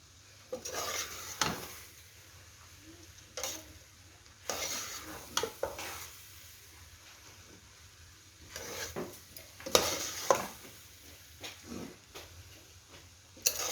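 Vegetables and rice being stir-fried and mixed in a pan, with repeated scraping and tossing strokes, soft sizzling and occasional utensil clatter against the pan, close up and moderately loud, with no talking.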